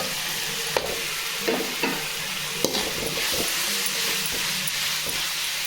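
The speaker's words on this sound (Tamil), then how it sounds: "இந்த தேங்காய் நல்லா வதங்குற அப்படி வதக்கி விட்டுக்கோங்க" Coconut sautéing in a pan with tomato and vallarai greens sizzles steadily, with a spoon scraping and stirring in sharp clicks at irregular intervals, close and fairly loud, no talking.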